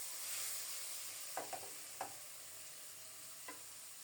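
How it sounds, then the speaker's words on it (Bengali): Fish and onion frying in a pan give a faint, steady sizzle, with a few soft spatula taps and scrapes spaced through it and no voices. "এরই মধ্যে মাছ এবং পেঁয়াজ লালচে হয়ে এক পিঠ ভাজা হয়ে গেছে।"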